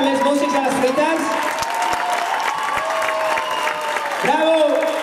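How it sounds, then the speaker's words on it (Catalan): Audience at a Camp Rock concert clapping steadily and loudly throughout, with a voice speaking over the applause. "Un aplaudiment, sisplau"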